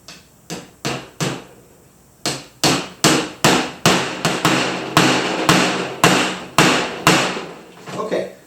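About a dozen sharp hammer blows on a nail into a canvas frame, in a steady rhythm after a few spaced opening taps, loud and close.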